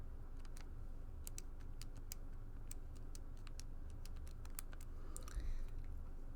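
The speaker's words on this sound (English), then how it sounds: "I'm just typing these into my calculator." Fingers press keys on a calculator, giving a string of sharp, light clicks in an uneven rhythm over a faint, quiet room hum.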